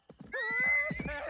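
A horse neighs in one loud, drawn-out whinny with a quavering pitch, preceded by a few brief snorting or hoof-like thumps, close and clear with no talk.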